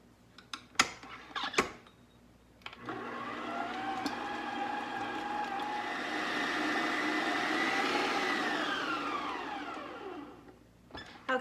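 An electric hand mixer beats two softened blocks of cream cheese in a bowl for a no-bake pumpkin swirl cheesecake, a steady loud whirring drone that rises and falls slightly, after a few knocks at the start.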